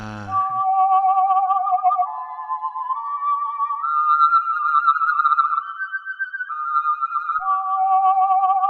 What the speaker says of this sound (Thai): เป็นเสียงผิวเปล่าเหมือนเดิม